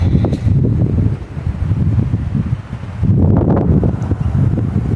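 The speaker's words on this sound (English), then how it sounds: "it's wind is a little howly in here" Wind howling through a spring woodland in March, buffeting the microphone with a steady, loud low rumble that swells and dips in gusts, without any talk.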